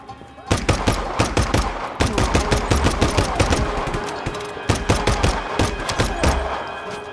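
Dense, loud automatic gunfire from the Just Cause 3 video game, with rapid bursts of shots that pause briefly and resume several times, near and close-sounding.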